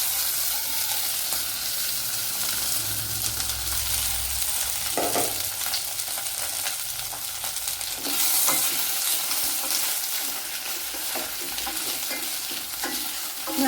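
Beetroot sautéing in a little oil in a pan, a steady soft sizzle with occasional stirring scrapes and clinks, close and alone without talk.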